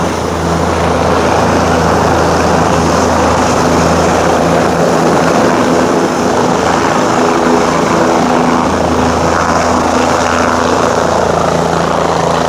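A loud, steady roar of a nearby helicopter engine taking off in New York City, with whirring rotor blades, constant and overwhelming throughout.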